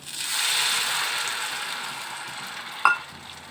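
Hot water poured into cooked masala in a pan, a broad hissing sizzle that swells early and fades gradually, ending with one sharp metallic clink near the end.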